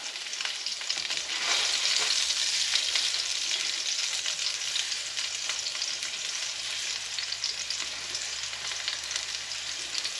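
Curried pork burgers frying in a pan on a stovetop give a loud, steady, close sizzle with crackling that holds unbroken throughout and no talk.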